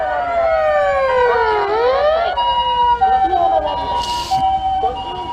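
A loud emergency siren wails up and down nearby on a Tokyo street, then switches to a shorter, higher yelping pattern over road noise.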